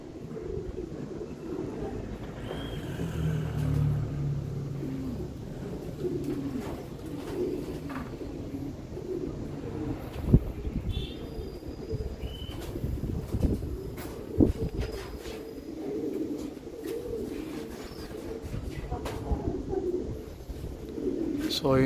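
Soft, low pigeon coos come and go against breezy outdoor background noise on a windy day, with a few sharp knocks and faint distant sounds.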